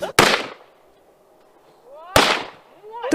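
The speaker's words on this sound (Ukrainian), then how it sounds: "постріли, і мішень повалилась" Firearm shots during target shooting practice at an outdoor range: two sharp, loud cracks about two seconds apart, each trailing off in a short echo, with another shot starting right at the end.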